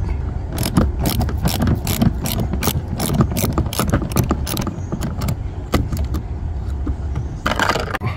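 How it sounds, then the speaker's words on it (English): Rapid metallic clicking of a ratchet loosening a bolt on a Mercedes-Benz trunk switch, close and loud, with dense bursts of clicks and a brief pause before a final flurry. "we'll loosen out the first bolt"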